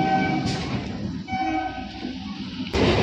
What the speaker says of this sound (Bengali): ট্রেন ঢুকছে, আর আমি লাস্ট ট্রেনের আগেরটাই পেয়ে গেছি।